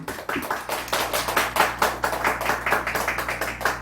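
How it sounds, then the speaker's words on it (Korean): Congregation clapping in praise to God during a church service, a steady stream of overlapping claps from a group, moderately loud and fairly close, with no speech over it. "하나님께 영광의 박수 드리겠습니다"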